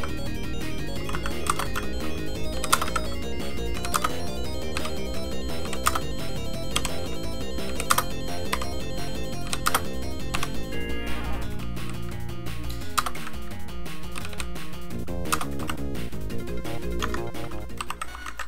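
Rapid typing on a computer keyboard, dense clattering keystrokes over continuous arcade game music and effects, close and steady throughout with no speech.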